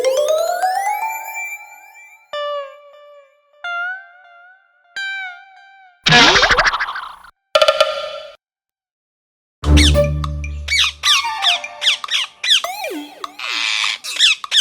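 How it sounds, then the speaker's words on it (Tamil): Cartoon parrots squawking in a forest scene, a series of bright, rapid synthetic chirps and sliding calls in separated bursts, then a dense cluster of loud squawks near the end, with no talk. "சேம்பனோட உதவியால விடுதலையான கிளிகள் சேம்பன் அப்புறம் அம்பு பின்னாடியே பறந்து போச்சுங்க"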